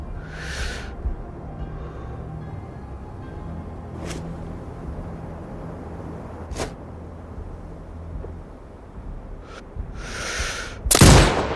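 Sniper rifle shots in the video game Sniper Ghost Warrior Contracts 2: a few sharp isolated cracks spaced seconds apart over a low ambient game rumble, with the loudest, heaviest blast right near the end.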